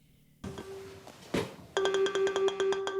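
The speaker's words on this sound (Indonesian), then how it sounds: "Madison yang ditinggal Scott ke WC yang mendapatkan telepon dari psikopat yang mengancam bahwa mereka akan meninggoy di malam itu" A phone rings in the horror film Scream 7: after low rustling and a dull thump, an electronic ringtone begins with a repeating, pulsing tone pattern, clear and fairly loud, with no talk over it.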